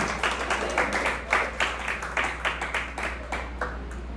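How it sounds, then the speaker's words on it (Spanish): A church congregation claps during an evening sermon, loud rhythmic group clapping in an even, repeating beat of sharp bursts over a low steady hum. "Denle un aplauso al Señor en esta noche"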